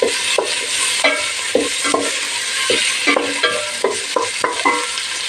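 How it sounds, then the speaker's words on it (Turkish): Carrots sauté in a hot pan for a bezelye (pea) dish, with a steady bright sizzle broken by repeated scraping stirs of a utensil against the pan, close and fairly loud, with no voices. "Önce havuçlar atıyorum arkadaşlar. Hem lezzeti çıksın hem de geç piştiği için şöyle güzel kavrulsun."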